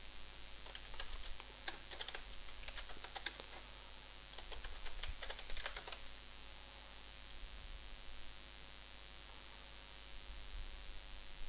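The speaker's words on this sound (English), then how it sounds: "then I write the git commit message" Light clicking keystrokes on a computer keyboard as a git commit message is typed, quick bursts of taps in the first half, then only a soft steady hiss, quiet and without speech.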